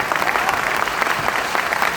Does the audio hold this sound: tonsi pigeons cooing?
no